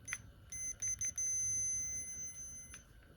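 A Radio Shack multimeter with its cover missing, used as a continuity tester on very small wire, gives sharp high-pitched electronic beeps: several short chirps, then one sustained tone, fairly quiet and close.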